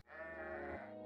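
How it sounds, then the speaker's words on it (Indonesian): A goat gives a single loud, wavering bleat lasting about a second, close and alone. "setiap kambing punya suara mengembik yang beda-beda"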